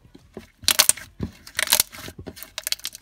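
Slime being squeezed and pressed gives crisp crunching and crackling bursts in several close, fairly loud clusters, separated by quieter clicking squishes.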